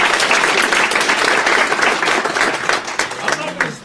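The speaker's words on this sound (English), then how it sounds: "give Professor Peter Cole another round of applause" Lecture audience giving a speaker another round of applause, loud dense clapping from a crowd sustained for several seconds before thinning out near the end, with a voice faintly heard beneath.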